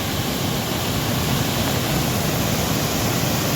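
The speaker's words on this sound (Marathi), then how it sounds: "इथे बघा कसला मोठा धबधबा तयार झालाय" A large waterfall at a village farm pours steadily, a dense broadband roar with no breaks or variation, close and loud, with no voices over it.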